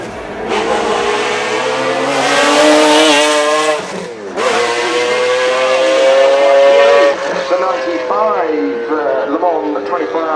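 A McLaren F1 GTR short-tail racing car in the Need for Speed High Stakes video game, its V12 engine wailing loud and high through rising and falling gear changes, with a brief dip midway.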